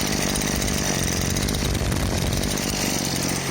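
A jerry-rigged 43cc small gasoline engine runs steadily and loudly close by, a continuous buzzing, chainsaw-like whine with no pauses and no talking over it.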